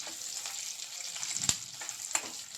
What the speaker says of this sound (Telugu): ఇప్పుడు ఇక్కడ ఆనియన్స్ అయితే వేగుతున్నాయి కదండి ఇప్పుడు ఇందులోకి టొమాటో వేస్తున్నాను